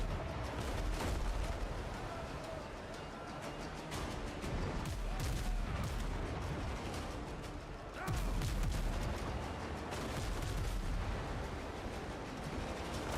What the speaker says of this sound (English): If the cannons just hit better,